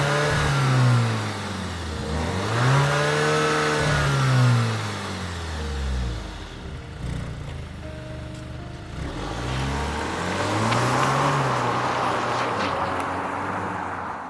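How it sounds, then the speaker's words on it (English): An Alfa Romeo Stelvio SUV engine idles with a low, diesel-like rumble, then revs up and settles back down several times in rising and falling sweeps, fairly close. "at idle, it almost sounds like a diesel"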